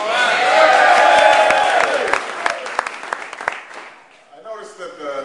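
A large crowd at a St. Patrick's Day event at the White House applauds and cheers loudly, the roar fading into scattered claps before a voice begins speaking near the end.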